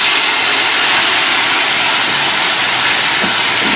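Marsala wine hitting a hot pan of bubbling flour and fat for chicken Marsala, a loud, steady broadband sizzle and hiss that fills the whole stretch without pause.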